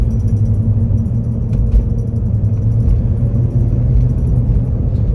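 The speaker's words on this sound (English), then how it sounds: "A little bit of tire noise." Inside a moving 1995 Jeep Grand Cherokee Limited ZJ, tire noise blends with a steady low road rumble, continuous and fairly loud, with no talk.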